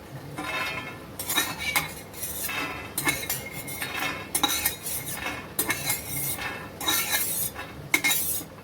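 Roasted peanuts being scraped out of a pan with a metal spoon, repeated clinks and scrapes of utensil against metal in bursts, fairly close with no talking.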